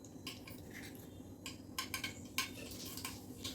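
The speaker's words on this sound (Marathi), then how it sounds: "मोहरी आणि जिरेचं असं तरतर आवाज येतो छानपैकी." Mustard seeds and cumin crackling in hot oil in a pan, cooked at home for pea cutlets: irregular sharp pops and sputters scattered over a low steady sizzle, close and fairly quiet, with no talk.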